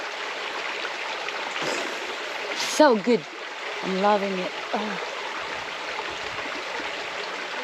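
A jungle river in the Philippine countryside, where someone bathes when there is no water at home, makes a steady, close rush of flowing water. Someone talks briefly over it, with a few splashy bursts.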